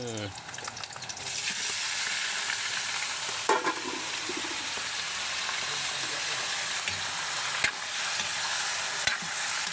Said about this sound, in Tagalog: pag mainit na siya, ilagay na ang main ingredients